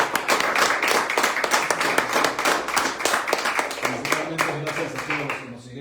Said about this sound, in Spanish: Pues, y bueno, pues un aplauso, ¿no? Un aplauso a todos.